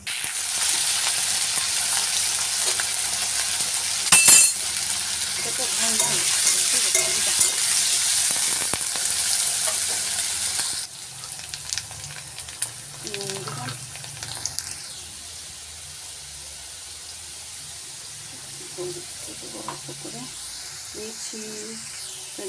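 Dried potatoes frying in a pan in a home kitchen, a loud steady sizzle for about half the clip, then quieter cooking clatter and faint voices.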